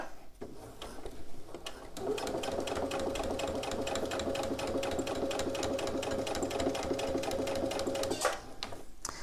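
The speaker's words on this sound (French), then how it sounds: "Et donc je couds à peu près à 2-3 mm du bord." Sewing machine stitching a STRIKE bag about 2-3 mm from the edge with a 3 mm stitch length, a steady, close, fast rapid-fire run of stitches lasting about six seconds between brief pauses.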